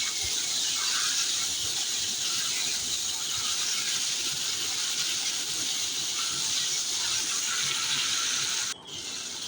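Chopped tomato frying in a pan with spices, a loud steady sizzle and hiss that holds close and constant, briefly dipping near the end.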